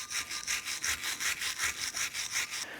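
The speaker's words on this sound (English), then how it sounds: "go ahead and take your wire brush and we're going to clean where our pad sliders go" Wire brush scrubbing the pad slider area of a rear brake caliper bracket on a 2004-2008 Acura TL, a steady rhythmic back-and-forth rasp of about a dozen strokes, close and fairly loud with no talk.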